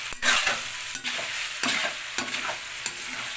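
Pork adobo with papaya frying in rendered pork fat, a steady close sizzle and crackle with periodic scraping stirs, without voices.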